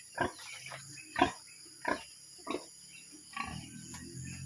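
Several short pig grunts, about six, spaced irregularly and fairly close, with a steady high hiss and faint rushing water of a flooding river behind them on a farm.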